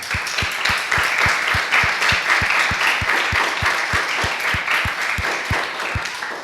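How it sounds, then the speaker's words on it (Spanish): A church congregation applauds steadily and loudly, with dense clapping and a regular rhythmic beat running through the whole burst. "Un aplauso al Señor."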